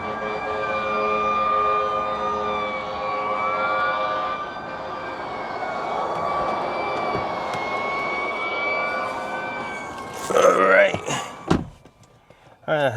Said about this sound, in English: I don't know if you can hear the fire truck, but it's going wild right now.